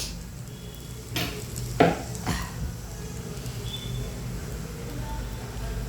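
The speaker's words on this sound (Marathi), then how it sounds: "तावा ठेवून आपलं धपाटं टाकायचं आणि धपाटं टाकल्याच्या नंतर त्याला एकूण तिकून तेल सोडायचं आणि भाजू द्यायचं" Dhapate flatbread roasting in oil on a hot tawa gives a steady close sizzle, broken by a few sharp clinks and scrapes of a utensil against the pan.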